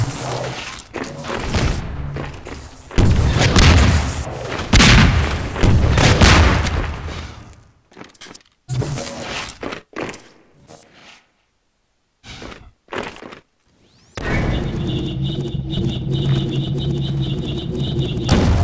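Loud rocket blasts, thuds and gunfire from a Half-Life 2 Deathmatch game with RPGs come in heavy bursts, broken by short quiet gaps, and end in a sustained noisy stretch.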